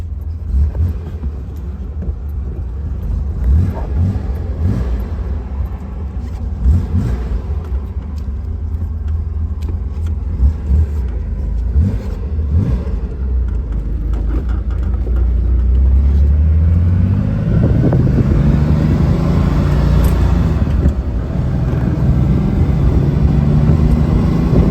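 A 1964 Corvair Monza convertible drives along, its engine rumbling low and close. The rumble swells as the car accelerates and shifts, with wind and road noise building toward the end.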